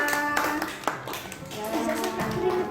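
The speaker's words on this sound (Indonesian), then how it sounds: "Tepuk tangan buat kelompoknya Iza." A classroom of students claps briefly for a student group, scattered hand claps mixed with overlapping children's voices and chatter.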